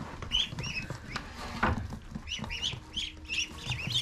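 Chickens cluck softly and intermittently on a farm, with scattered chirps and light scratching close by and no talk.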